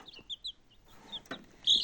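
Young village chickens, chicks of undetermined sex, clucking and chirping in a run in rural Ukraine, a few short quiet calls spread out with gaps, ending in a sharper cheep.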